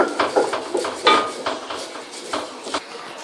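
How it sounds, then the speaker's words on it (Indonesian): Utensil stirring fried chicken with toasted grated coconut in a pan, Indonesian ayam goreng serundeng: repeated scraping and clinking strokes against the metal, close and steady, with no talk. "Aduk terus hingga rata, karena nanti kalau nggak diaduk bisa gosong di bawahnya"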